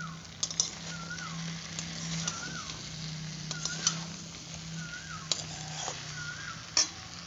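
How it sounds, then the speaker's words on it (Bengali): Capsicum, drumstick, pointed gourd and ridge gourd sautéing in a pan with a steady soft sizzle, broken by several sharp clicks and taps of a utensil against the pan, with a faint low hum beneath. "এই 4টে সবজি আমি এইটা এটার মধ্যে দিয়ে দিচ্ছি। এবারে খুব ভালো মতো কষতে হবে।"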